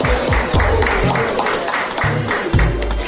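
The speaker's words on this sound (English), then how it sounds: "Give yourselves a round of celebration, a round of applause" An auditorium crowd at a Black men's gathering claps in sustained applause, dense and loud throughout, with voices and cheers mixed into the clapping.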